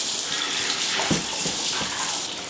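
Water runs steadily from a shower valve into a lined shower pan being flooded to test for a leak, a continuous broadband rush with a few brief clunks partway through.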